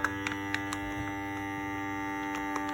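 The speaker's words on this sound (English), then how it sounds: "Vacuum seal, here we go." A small latched-lid vacuum sealer runs with a steady, even electric hum and whine, holding at a constant level throughout with a few light clicks near the start.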